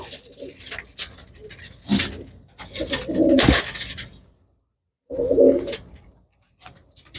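Pigeons coo in low, throaty bursts, loud and close, with short pauses between calls and some rustling and clattering around them.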